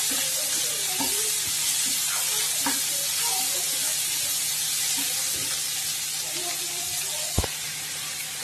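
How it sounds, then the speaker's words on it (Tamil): Chopped onions and banana flower sauté in a pan, giving a steady, close sizzle with occasional scraping stir strokes and one sharp knock of the utensil. "வெங்காயம் வந்து கொஞ்சம் வதங்கினா போதும்."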